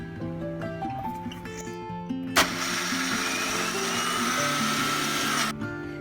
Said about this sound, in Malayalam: ഇനി നമുക്ക് തേങ്ങ ഒന്ന് തിരിച്ചെടുക്കാം മിക്സിയിൽ നിന്ന്.